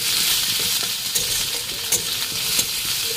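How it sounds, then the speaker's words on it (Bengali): Potatoes frying in a pan for ghugni, a steady close sizzle with occasional soft clicks of stirring, no voices. "আলুটাকে আমি সিদ্ধ করিনি, এইভাবে ভেজে নিচ্ছি"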